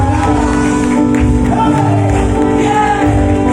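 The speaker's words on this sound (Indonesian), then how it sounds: "Kasih tepuk tangan buat musisi, kepada musisi Lolita." A church congregation at a Sunday service claps and cheers for the musicians, a loud steady burst of applause with shouts and whoops over sustained instrumental tones.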